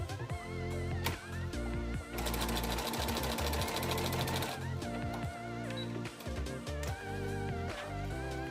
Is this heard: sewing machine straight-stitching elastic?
yes